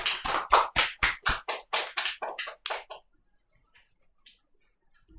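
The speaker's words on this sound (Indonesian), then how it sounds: "Boleh beri tepuk tangan yang meriah." A small audience at an Islamic history discussion event claps in a short, sparse burst of distinct hand claps, roughly a dozen sharp strikes over three seconds, then fading into near silence with a few faint taps.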